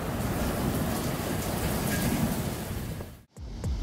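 Heavy rain pours during a thunderstorm in Queensland, a dense, loud, steady hiss that cuts out abruptly near the end and then resumes.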